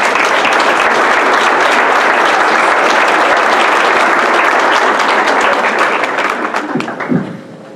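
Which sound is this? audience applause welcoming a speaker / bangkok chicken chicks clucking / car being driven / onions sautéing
audience applause welcoming a speaker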